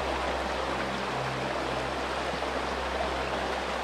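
A river near Episkopi in the Paphos district of Cyprus gives a steady, dense rush of flowing water, with no break and no voices.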